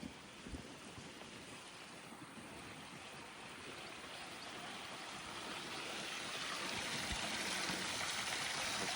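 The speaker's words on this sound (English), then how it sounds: "Another beautiful waterfall." A waterfall feeding a large koi pond pours in a steady wash of falling water that grows slightly louder as the listener moves closer, with a couple of low wind bumps and no talk.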